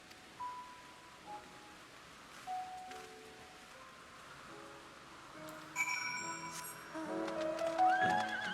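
A horse in the Final Fantasy XIV: Endwalker video game, with a few clear whinnies and snorts spaced across a musical, chiming game soundtrack, growing busier and louder toward the end; nobody talks.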